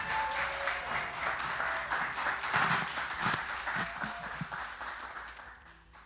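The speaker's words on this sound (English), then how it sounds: "Let me hear that applause" Applause from a crowd at a press conference, a steady wash of clapping that slowly fades, heard at a moderate distance.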